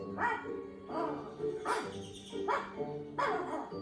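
A dog barks repeatedly in a storybook tale, about five sharp, loud yelps spaced evenly at moderate volume over a steady background.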